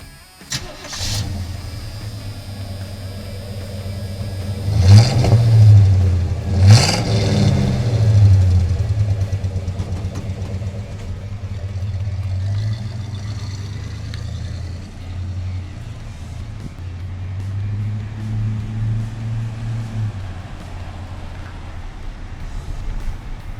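A 1984 GMC 1500 pickup truck engine cranks and fires with two sharp bursts, then revs briefly before settling into a steady, rumbling idle close to the microphone, with no voices.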